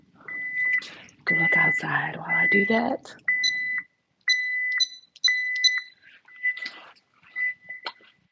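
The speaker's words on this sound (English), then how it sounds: "let me turn the alarm off" An office alarm system emits a repeating pattern of sharp electronic beeps in short bursts before falling silent, while a person speaks nearby and a dog whimpers.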